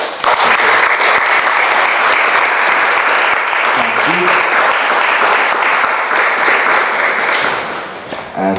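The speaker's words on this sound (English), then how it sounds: "one more big applause" Loud, sustained audience applause following a writer's reading at a touring literary event, dense clapping holding steady for about seven seconds before thinning slightly at the end.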